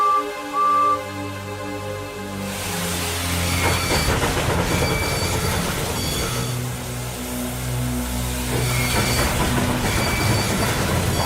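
A steam engine strains to start a heavy train, its wheels slipping. A continuous rumbling, rhythmic chugging churns beneath sustained musical tones, with no talking over it.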